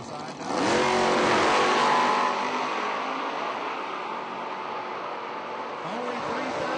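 Drag race cars, a Mustang and a Vega, launching at a footbrake drag strip event, a loud engine roar bursting up and then a sustained drone, with an announcer's voice over it.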